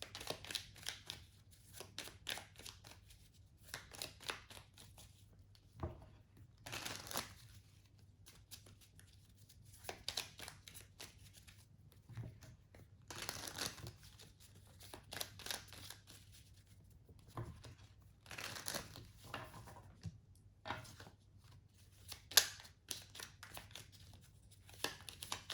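Cards from a small tarot deck being shuffled and drawn, a steady run of soft papery riffles, slaps and crinkly flicks in close, quiet bursts that repeat across the stretch, with no voices.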